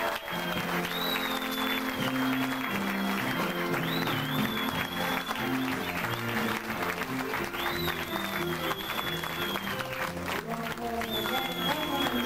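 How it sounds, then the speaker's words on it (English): Wedding guests applaud steadily, a dense crowd clapping throughout, with music and voices underneath. "With a big round of applause, please."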